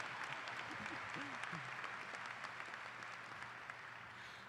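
Graduation ceremony crowd at East View's 2018 commencement clapping in a broad, even, somewhat distant wash that fades slightly toward the end.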